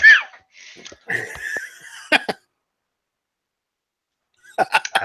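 A few short, sharp coughs sound close by, then a brief pause of silence before more throaty bursts.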